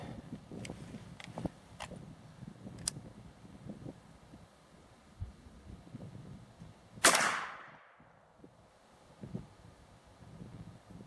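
A sharp rifle shot cracks out once mid-clip from a scoped rifle being sighted in, loud and close, its report trailing off in a short decay over quiet outdoor background.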